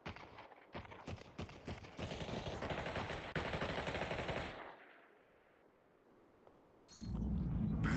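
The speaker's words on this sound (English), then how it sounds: "Wojak with the grenade launcher, or I guess that's the rocket launcher." Rapid bursts of gunfire and explosive rocket launcher shots in the VR battle game Population One, dense and loud, easing into a quieter lull before another loud burst.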